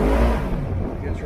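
Polaris General UTV, a 2019 model fitted with a Dura clutch, revving under throttle, a close, steady low engine drone that holds loud throughout with slight swells.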